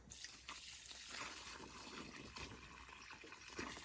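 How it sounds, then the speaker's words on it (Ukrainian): Water pours and trickles steadily onto soil around a newly planted tomato seedling, a soft continuous splashing with no talking. "Тепер добре заливаю водою"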